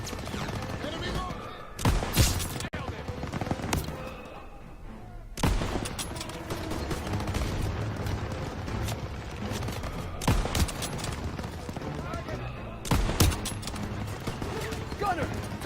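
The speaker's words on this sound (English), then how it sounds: "Gunner, target that MG-42 nest, right side!" Bursts of MG-42 machine gun fire and heavy gunfire rattle through a WWII video game battle, with loud volleys erupting repeatedly over continuous combat noise and shouted voices.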